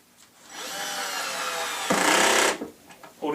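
A power drill runs steadily while driving screws during Lazy Susan cabinet assembly, then a louder, harsher burst near the end suggests the clutch ratcheting, with faint talk at the edges.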